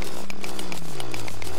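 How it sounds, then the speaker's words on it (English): Adamantite drill running in Terraria, a steady mechanical whirring drone with a slowly falling pitch and rhythmic clicking bursts, loud and unaccompanied by speech. "Aren't you glad I made my adamantite drill?"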